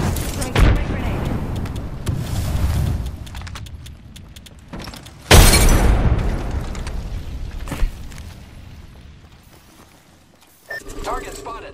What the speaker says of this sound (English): Throw my grenade.